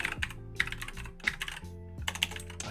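Rapid bursts of keystrokes on a computer keyboard, crisp clustered clicks in short runs separated by brief pauses, close and clear with no talking.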